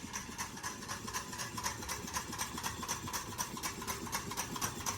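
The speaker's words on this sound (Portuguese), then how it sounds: "esse é o funcionamento do meu motor Stirling caseiro." A homemade Stirling engine runs steadily with a fast, even mechanical ticking and whirring, a regular rapid rhythm heard up close at low volume.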